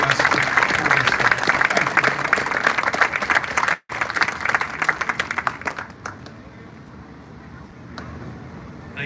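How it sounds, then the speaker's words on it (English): A crowd at the opening ceremony of the Willard, Ohio sesquicentennial claps in sustained, dense applause that briefly cuts out, resumes, then thins to scattered claps as it fades. "Give all of those donors a great round of applause for they enable us to pull this off."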